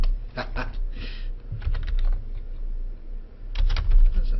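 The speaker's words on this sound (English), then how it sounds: "What if you type in Ohio Code?" Keys clatter on a computer keyboard as a search is typed into a legal research database, with bursts of quick presses, a pause, then another flurry near the end, fairly close and clear.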